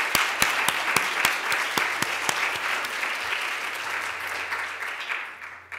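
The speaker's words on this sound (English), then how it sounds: "So another round of applause for you." Lecture audience applauding at a Yale African American Studies event, a dense, sustained round of clapping with distinct individual claps early on, gradually thinning out, with no voices over it.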